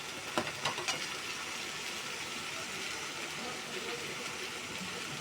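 Ginger paste goes into onions and garlic paste frying for a Bengali mutton bhuna, giving a steady, continuous sizzle with a few sharp spatters near the start.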